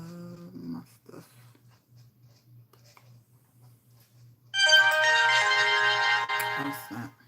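A phone rings indoors with a sustained bright ringtone that starts suddenly and runs for about two seconds, loud and close, after a quiet stretch with a low hum.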